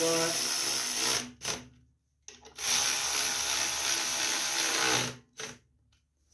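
Power tool, likely a drill or driver, tightening bolts on the fuel tank of a Yard Machine lawn tractor, in two long loud whirring bursts with short gaps and a brief burst between them.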